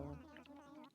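Bees buzz softly in Animal Crossing, a faint, continuous insect drone with a wavering pitch that holds for about a second.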